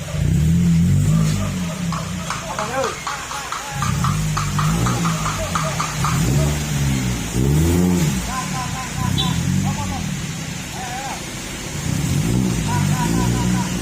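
Toyota Calya car with an aftermarket exhaust revving repeatedly, deep throaty engine surges rising and falling in several bursts close by, with people talking over and between the revs.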